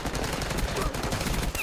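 Rapid automatic gunfire in Black Ops 6 multiplayer, a dense, continuous burst of shots at close range throughout with no pauses.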